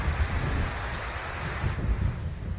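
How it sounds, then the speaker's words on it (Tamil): Heavy rain pours steadily during a storm with the power out, a dense continuous hiss with low rumbling beneath, loud and unbroken throughout. "இந்த பாழா போன மழை ஏன் தான் இப்படி பெஞ்சு தொலைக்குதோ?"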